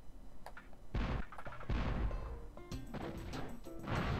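TNT crates exploding in Spyro 2: Ripto's Rage, a string of loud booming blasts and crashes in quick succession, heavy and close.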